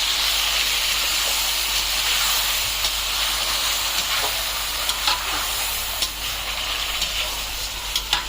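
Marinated chicken going into hot oil for chicken korma, a loud, steady sizzle and hiss with occasional clinks and scrapes of stirring, close and continuous with no talking.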